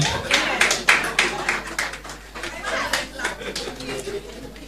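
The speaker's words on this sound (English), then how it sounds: "A round of applause for him." Clapping from a gathered audience at a discussion of sanitary pad taxes and girls' school attendance, scattered and uneven claps with some chuckles, and voices chattering over it.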